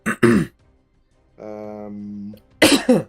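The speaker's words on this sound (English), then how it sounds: "cannot stop coughing" A few harsh throat-clearing coughs at the start, a hummed or groaning voiced sound in the middle, then two more loud coughs near the end.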